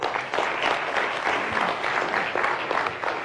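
An audience applauds a band at a live event, a steady wash of clapping from a crowd that holds at a moderate level for a few seconds.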